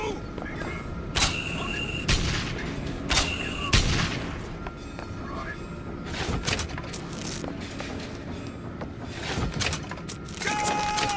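Bursts of gunfire in BioShock Infinite crack out repeatedly over a steady background of game noise and music, with sharp shots scattered throughout.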